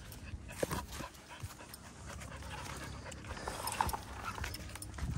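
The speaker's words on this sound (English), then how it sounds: "Yeah, I see the little dog with her." A small dog pants steadily and rhythmically up close, quick breaths continuing throughout with a few brief whimpers and soft background noise.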